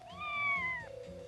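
A cat gives one clear, drawn-out meow that rises and then falls, fairly close and quiet against a soft background.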